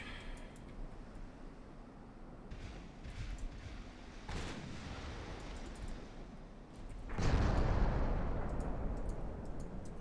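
Warship guns fire in the naval video game Ultimate Admiral: Dreadnoughts, with a couple of heavy booms, the second louder with a long rumbling tail, over a constant low battle rumble and no talking.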